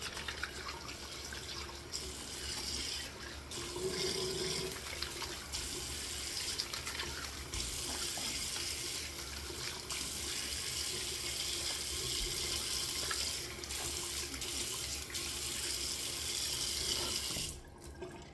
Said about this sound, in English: Go ahead and rinse off. Cold water rinse.